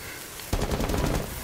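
Sudden burst of rapid automatic gunfire in the tactical shooter Rainbow Six Siege, loud and close, following a short quieter lead-in and continuing as a sustained rattling stream.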